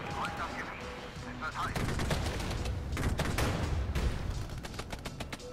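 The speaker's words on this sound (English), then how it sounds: "Let's get a barrage on them." Artillery barrage in the military strategy game Regiments, a dense rumble of explosions and crackling impacts rolling on steadily under a busy battlefield mix, with a voice talking over it.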